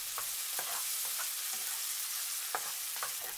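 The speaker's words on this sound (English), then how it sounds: "When the oil is hot, put the tofu cubes." Tofu cubes frying in hot vegetable oil in a pan, a soft continuous sizzle broken by a few scraping stirs, faint and close, with no voices.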